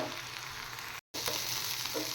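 Sliced okra seasoned with salt and turmeric fries gently in a pan, giving a steady, soft sizzle that breaks for an instant and then resumes. No voices.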